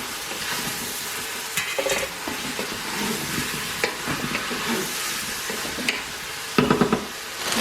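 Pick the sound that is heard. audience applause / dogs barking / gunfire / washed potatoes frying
washed potatoes frying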